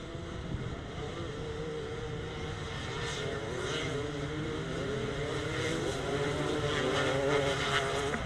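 250cc solo grasstrack motorcycles racing at the Dig Dog Dash grasstrack meeting, a steady engine drone with shifting revving tones as bikes circuit at a distance, continuous throughout without talk.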